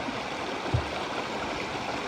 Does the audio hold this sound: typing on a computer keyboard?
no